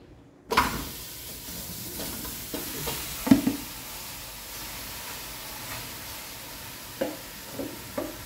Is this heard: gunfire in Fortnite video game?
no